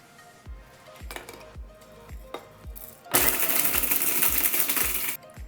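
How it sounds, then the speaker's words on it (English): Several short clattering knocks of whole spices rattling, then a loud whirring burst of a blender pulsing once for about two seconds before stopping. "that's all gonna go into a blender. I'm just gonna pulse once to break them apart"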